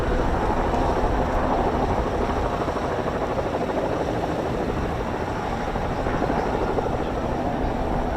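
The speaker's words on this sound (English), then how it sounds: "the aircraft departs with an over-the-shoulder transition, a defensive manoeuvre presenting the floor ballistic protection towards any probable threat" A Chinook helicopter departs at the RAF Cosford air show with a steady, loud, dense rotor thrum that holds unbroken from start to end, with no talk over it.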